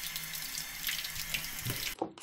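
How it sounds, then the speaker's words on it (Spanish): Water gushes at full pressure through the stages of an Acala Quell 5-litre water filter from a shower head, a steady loud stream that cuts off abruptly near the end. "le vamos a dar con el máximo presión en esta parte de aquí para que el agua se libere por aquí abajo"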